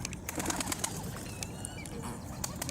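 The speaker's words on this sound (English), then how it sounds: "usually these pigeons, when there's one, then the rest would flock by" Pigeons outdoors coo softly amid a wash of steady background noise, with brief bursts of wing flapping scattered through.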